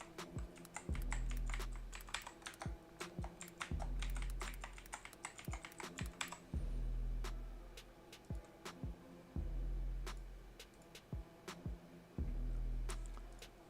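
Password being typed on a computer keyboard during an online account signup, heard as close, crisp keystrokes in irregular bursts with short pauses between them and no talking.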